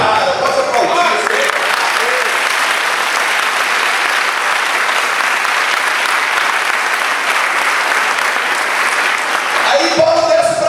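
A church congregation applauds loudly and steadily for about ten seconds, dense clapping filling the room, with a voice briefly audible at the start and end.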